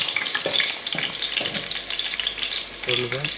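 Whole spices — cinnamon, cloves and cardamom with a bay leaf — fry lightly in hot oil, giving a steady close sizzle with a few brief stirring scrapes, no voices.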